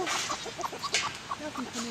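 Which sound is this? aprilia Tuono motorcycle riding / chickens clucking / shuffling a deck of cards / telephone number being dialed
chickens clucking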